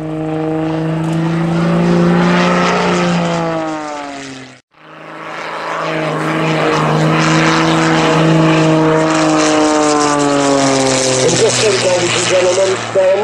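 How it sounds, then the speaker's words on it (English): At an air and vintage vehicle show, an aerobatic propeller airplane drones loudly through a torque roll and tail slide, its engine pitch rising and falling, cutting out briefly, then roaring back, with an announcer talking over it. "that's looking like a beautiful torque roll where he's just hanging there on his propeller"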